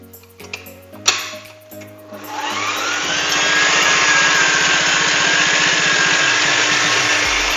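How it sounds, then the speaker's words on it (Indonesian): A Kenwood electric mixer starts up after a few clanks and then whisks batter with a loud, steady motor whine and rhythmic churning, close and continuous. "Ini kocok dulu kurang lebih 6 menit."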